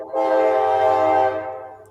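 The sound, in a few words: passing train with horn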